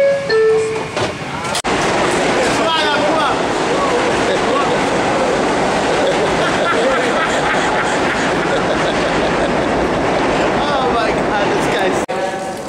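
A New York City subway 4 train bound for Manhattan departs, filling the space with a continuous loud roar and rattling of rail cars, with a brief chime or door noise near the start and end.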